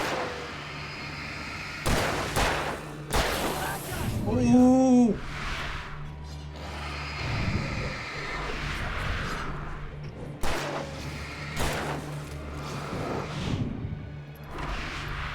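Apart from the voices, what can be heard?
gunshots from the video game Alan Wake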